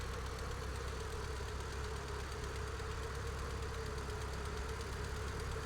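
A simulated aircraft engine at idle with the throttle pulled off during a Flight Simulator X flight, giving a steady, even drone with a low hum that holds unchanged throughout, with no talk.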